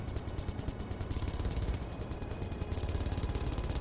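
A turret in the video game Space Engineers fires in rapid, rhythmic automatic bursts, a loud, steady chatter of repeated shots that keeps going for the whole stretch with no talking.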